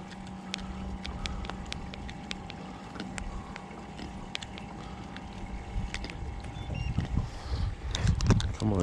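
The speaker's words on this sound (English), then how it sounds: "Bump my trolling motor up some here." A boat's electric trolling motor hums steadily and faintly while fishing in Charlotte Harbor, with water lapping and wind, and louder splashing toward the end.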